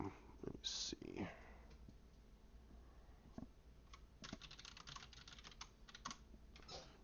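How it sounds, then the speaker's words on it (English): Typing on a computer keyboard: steady, quiet keystroke clicks in irregular bursts, with a few louder taps near the start and no other dominant sounds. "Yeah, you hear me typing."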